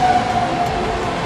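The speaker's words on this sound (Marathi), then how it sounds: "हे ट्रेन कंटिन्यू रात्री दिवस चालू असते, याच्यामुळे आमचं झोप पण नाही होत" A train runs continuously past a hostel building, day and night, producing a steady, loud rumble and rail noise that fills the whole moment without any pause or talking.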